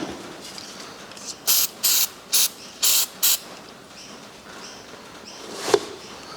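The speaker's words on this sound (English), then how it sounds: "actually we'll put a little bit of lubricant on there" Five short, sharp spray bursts of lubricant from a can onto a John Deere injection pump part during assembly, close and evenly spaced, then quiet mechanical handling with a brief clunk.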